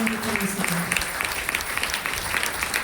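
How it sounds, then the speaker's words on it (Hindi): Audience applause at a direct-selling success story event, a continuous patter of many hands clapping at moderate level, with a voice speaking briefly at the start. "मैं चाहती हूँ एक बार जबरदस्त ताली होना चाहिए।"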